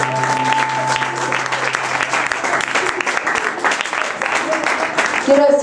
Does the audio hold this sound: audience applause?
yes